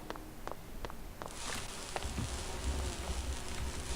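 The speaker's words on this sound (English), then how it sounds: "Busy bees." Insect-like buzzing of sea bees in a video game, a steady bright drone that swells in after about a second and a half and holds to the end, over a low rumbling bed and faint clicks.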